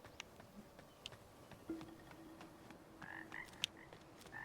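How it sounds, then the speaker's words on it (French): Frogs croak in the video game Wuchang: Fallen Feathers, faint scattered clicks and croaks over a quiet ambient bed, with no speech over them. "Les grenouilles."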